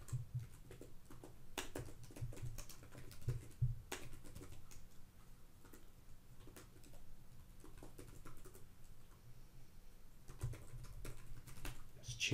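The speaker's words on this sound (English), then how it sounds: "just typing them in and pressing enter creates these keywords" Keywords are typed on a computer keyboard, with soft, close, irregular key clicks and taps in short bursts over quiet room tone.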